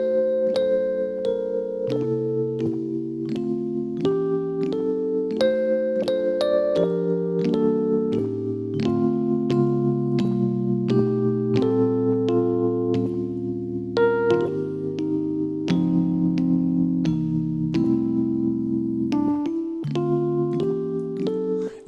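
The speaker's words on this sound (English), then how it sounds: "here's the keys by themselves" Keys play drop 2 piano voicings in a gospel and jazz style, a steady stream of close-voiced chords struck one after another with bright attacks and sustained tones, heard alone without talk.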